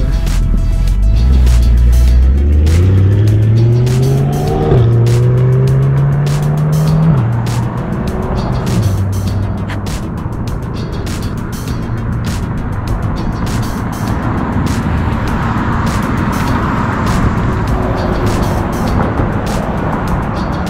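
Cars drive along Cook Street in Palm Desert, California: one engine climbs through rising gear shifts nearby, then traffic settles into a steady rushing roar with more passing vehicles.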